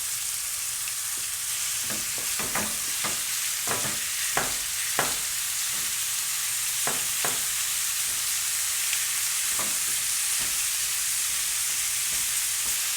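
Stew meat and ground beef fry in a pot for chili, a steady sizzling hiss punctuated by a run of sharp clacks and scrapes from stirring and breaking up the meat.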